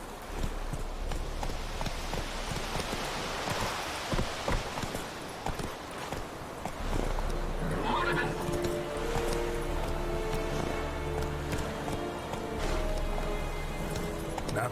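Geralt's horse Roach in The Witcher 3 gallops with rapid clip-clop hoofbeats, close and fairly quiet, mixed with game sounds and background effects. No clear neigh stands out.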